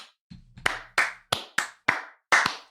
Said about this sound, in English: I'm just going to give him a slow clap right here.